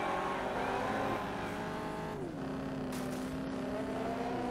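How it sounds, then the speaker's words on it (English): Demolition derby race car engines roar continuously in the video game Test Drive: Eve of Destruction, the droning pitch shifting and settling as the cars drive close by, with no talk. "These cars make a lot of noise for not making very much power."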